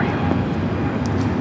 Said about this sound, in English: Delta 615 taking off to Cancun.